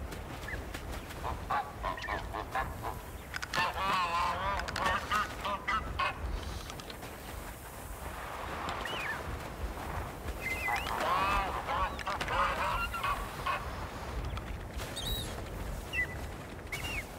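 Ducks in the video game Blanc honk and quack in repeated bursts over a low steady ambience, some calls near and others farther off, with no talk.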